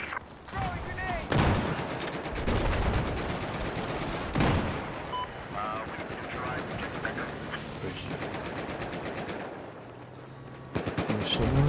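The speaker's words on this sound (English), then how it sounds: "Throwing grenade." Battlefield 4 online firefight in which a grenade is thrown amid bursts of gunfire, with loud blasts, rattling automatic fire and a dense, busy battlefield din; a voice speaks over part of it.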